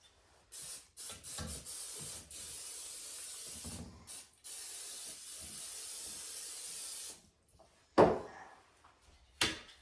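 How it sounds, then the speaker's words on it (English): Canola oil cooking spray hisses in a series of short and longer bursts over mini muffin tins, close and fairly loud, followed by a couple of sharp clunks as the pans are handled. "I'm going to use some canola oil spray to grease these pans right now."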